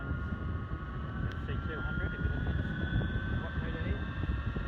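An electric hovercraft lift system powers up to about 600 watts with a loud, rumbling fan roar and a steady whine, with a person talking over the noise.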